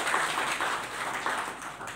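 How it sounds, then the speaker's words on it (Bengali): Scattered applause from a gathering of journalists at a film shooting event, a soft patter of hand claps that rises and falls, fairly faint and distant throughout. "আপনাদের সবার জন্য সবাই মিলে একটা হাততালি দিতে চাই"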